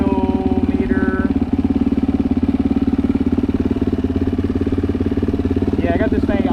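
A turbocharged dirt bike engine idles steadily at a fast, even rhythmic throb, loud and close throughout, with brief chirps or squeaks over the constant engine note.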